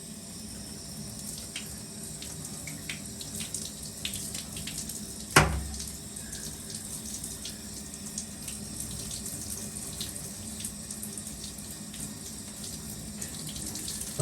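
A tap runs steadily while oily hair is rinsed after a hair transplant. The water hiss is broad and constant, with one sharp splash or knock partway through and no talking.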